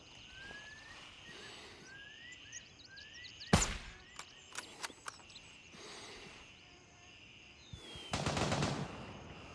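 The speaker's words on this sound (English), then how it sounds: "They're still shooting at me." Enemy gunfire in the video game Gray Zone Warfare: sharp distant shots and short bursts crack out irregularly, one loud blast and a heavier burst near the end, over a bed of insect and bird calls.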